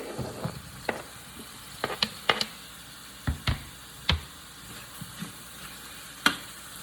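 Plant-based FieldRoast sausage with beans and seasonings frying in a pan, a soft continuous sizzle broken by sharp ticks and scrapes from stirring, close with no voices.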